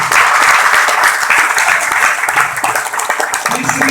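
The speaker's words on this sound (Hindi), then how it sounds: "तो बजाओ फिर ताली" A crowd at a motivational meeting in Rewari applauds loudly and continuously, dense hand-clapping filling the room with no speech on top.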